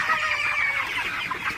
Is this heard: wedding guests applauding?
no